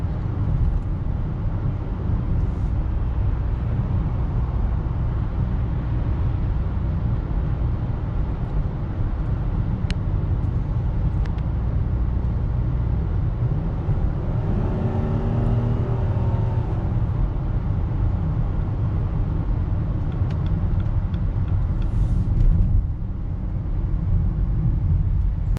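A 2019 Dodge Journey with a 4-cylinder engine accelerates slowly on the road, a steady droning rumble heard from inside the cabin with little change in pitch throughout.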